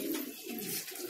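Pigeons cooing at a loft, a soft brief coo from a nearby bird amid light background noise.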